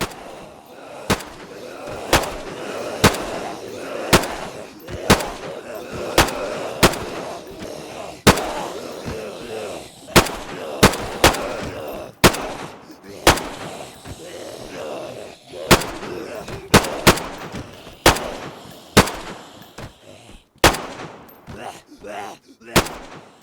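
Repeated gunshots from a rifle firing at zombies in the survival game DayZ, sharp loud cracks spaced roughly a second apart over a low ambient bed, some shots clustered closer together.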